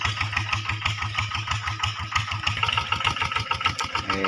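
A tractor engine in a cassava field idles with a steady, rhythmic low chugging, loud and close, running without pause.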